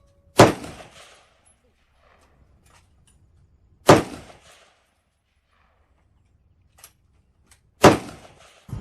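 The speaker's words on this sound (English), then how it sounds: "we were shooting this COLT M4" Three sharp, loud gunshots from a Colt M4 LE6920 SOCOM rifle fired outdoors, spaced about four seconds apart, each a crisp crack with a short ringing decay and quiet gaps between.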